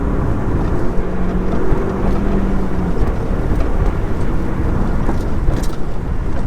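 Audi S3 pulling away in first gear, its engine a steady, loud drone with a low tonal hum early on, heard from inside the cabin without talk.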